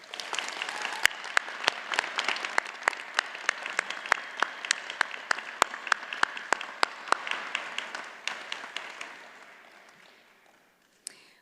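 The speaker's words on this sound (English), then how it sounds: "let's have another round of applause" Applause at a Berkeley School of Education commencement ceremony, a dense steady crowd clapping with sharp individual claps on top, gradually thinning and fading out toward the end.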